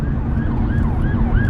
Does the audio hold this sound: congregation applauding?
no